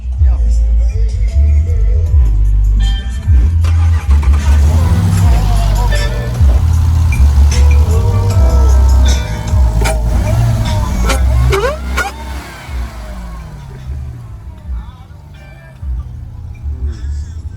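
Close, loud low engine rumble from a car at a drag event and car and truck show, running throughout with people talking nearby.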